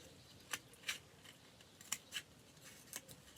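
Faint, close snips of scissors cutting material, several quick crisp cuts in irregular bursts over a quiet background, with no talking.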